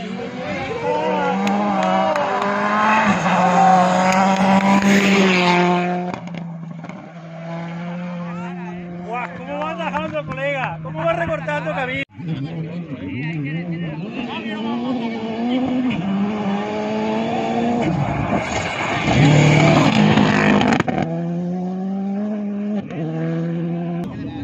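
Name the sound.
rally car passing by at the Rallye Tierras Altas de Lorca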